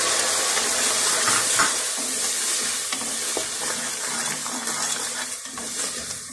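Salt, chilli, garam masala and turmeric fry in a pan for matar keema, a continuous bright sizzle with scraping and clinking of a spoon stirring throughout, close up and without speech.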